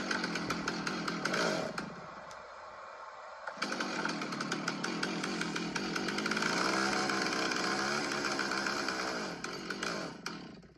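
A Stihl chainsaw engine running loud and close, revving with a short dip near the start then a sustained buzzing whine, no talking.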